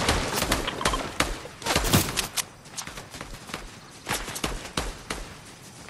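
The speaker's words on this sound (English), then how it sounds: "We are being shot at." Rapid gunfire in a Fortnite match, dense overlapping shots crackling nonstop at close range for the whole stretch, with no clear talking.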